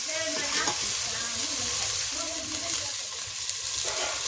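Onions cook in a pan for Gujarati urad dal, making a loud, continuous, close sizzle with a few brief scraping stirs and no talk.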